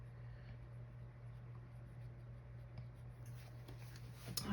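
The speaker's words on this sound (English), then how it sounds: "I do like to write the days of the week." A pen scratches across the paper of a planner as the days of the week are written in, soft close strokes over a steady low hum, with a bump of handling at the end.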